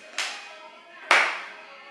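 Two separate hand claps ring out, spaced about a second apart, in a seniors' fitness exercise class. Each clap is sharp and close, with a short echoing decay and no voices over it.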